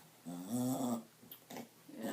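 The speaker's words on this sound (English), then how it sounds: "as you can hear my little puppy" A small dog snorts and snuffles up close: a drawn-out wheezy breath followed by a few short, sharp snorts.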